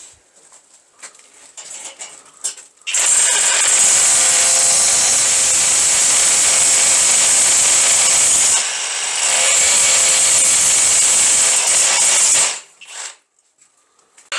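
A power saw cuts at night outdoors, a loud, continuous high-pitched whine with grinding that runs for about ten seconds, dips briefly, resumes, then stops.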